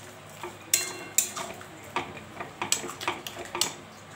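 A spoon stirs chutney in a pot after salt and turmeric go in, giving several sharp scraping clinks against the metal at irregular intervals, close and fairly quiet, with no talking.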